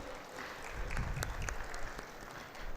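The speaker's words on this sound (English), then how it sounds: "Let's have a round of applause." Faint, distant clapping from a conference audience at a nonwoven technology expo in Mumbai, a short round of applause with a few sharper individual claps standing out.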